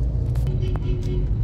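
Dense road traffic in the Binondo district of Manila, a steady close rumble of car and bus engines with brief higher noises rising through the mix, and faint voices in the background.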